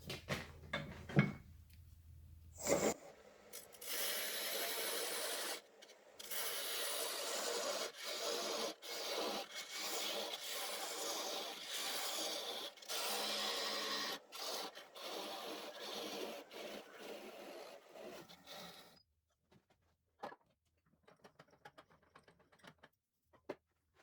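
A lathe parting tool cuts through spinning bunya bunya wood on a pepper grinder blank, giving a steady close rasping scrape in long bursts with brief pauses, then dropping to quiet ticks and clicks near the end.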